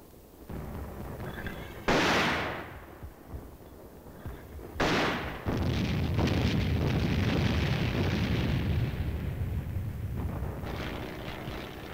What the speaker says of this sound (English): the aerial observer directs the mortar fire on enemy positions that can't be seen from the ground